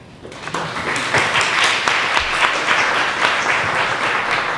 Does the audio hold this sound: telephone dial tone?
no